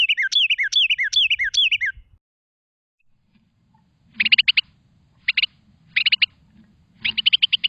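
A Carolina wren, a small songbird under an ounce, gives loud, close calls: a quick series of repeated descending whistled notes, then after a pause several short, harsh chattering bursts set against a faint low background rumble.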